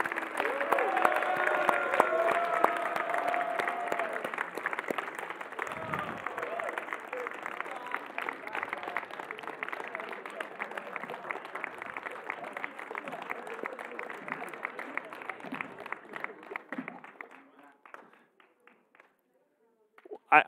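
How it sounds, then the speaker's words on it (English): A worship-service audience gives a senior class a long, full round of applause, dense and steady before thinning out and fading near the end, with cheering mixed in. "let's give one more round of applause for this senior class"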